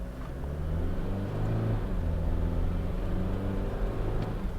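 A Toyota Fortuner 2.8 GR accelerating hard from a standstill, its engine rumbling loud and close and rising steadily in pitch over a few seconds with no one talking.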